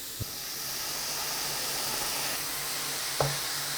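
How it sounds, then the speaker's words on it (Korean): Sauce sizzling in a pan while being stir-fried, a steady close hiss of bubbling liquid throughout, with two brief knocks of a utensil against the pan and no talking. "그러면 소스를 넣고 3분간 볶아서 조, 졸여준대요."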